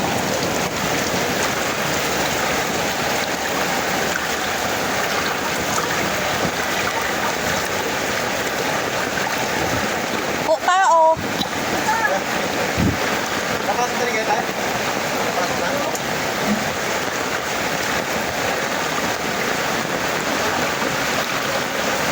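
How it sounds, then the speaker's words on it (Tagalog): Strong current of rising floodwater in a residential subdivision roars as a continuous, dense rush, loud and unbroken, with a short muffled bump midway. "Guys, ang lakas ng current ng tubig."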